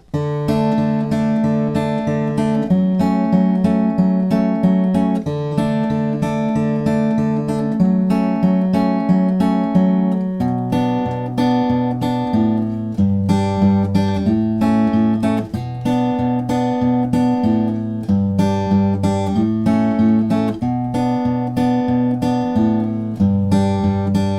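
Fingerpicked acoustic guitar plays the third-verse pattern of a song, bass notes alternating with plucked treble strings through several chord changes, close and clear with no voices.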